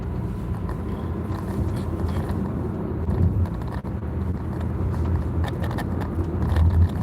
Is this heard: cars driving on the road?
yes